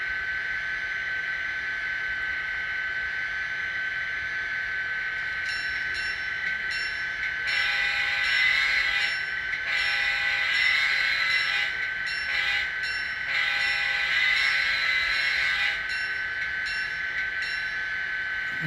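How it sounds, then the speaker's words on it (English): An N scale Intermountain EMD SD40-2 model locomotive in Kansas City Southern livery runs its 645 E3 prime mover sound, a steady electronic engine drone with a bright tonal whine and rising, pulsing bursts. No one talks. "And there's our 645 E3 prime mover. Sounds great."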